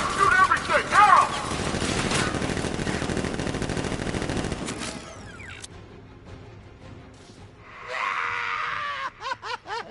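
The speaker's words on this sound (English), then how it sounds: "Gun! Open fire! Shoot everything!" Automatic gunfire bursts from the Batman: Arkham Knight video game, loud and dense for the first half with shouting voices mixed in, then quieter mechanical sounds and a final cluster of sharp bursts near the end.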